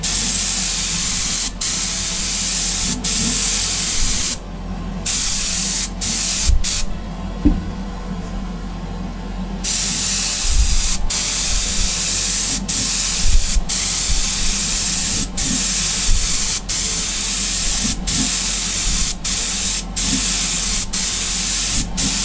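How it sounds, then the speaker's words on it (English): An airbrush spraying base-coat paint onto an absorbent Greek-style vase, a loud close continuous hiss that cuts out briefly twice, with quiet clicks and handling noise underneath. "I am spraying this onto a very absorbent material"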